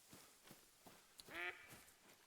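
A duck quacks in theHunter: Call of the Wild, one clear nasal quack rising out of a quiet scene, faint, with soft footsteps or rustling around it.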